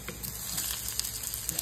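Onions fry in a pan with Spam grease, a brief close sizzle with a few soft stirring clicks.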